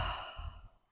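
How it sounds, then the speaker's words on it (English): During a guided movement exercise, a person lets out one long, soft exhale that is close and quiet and fades over about a second. "Breathing out."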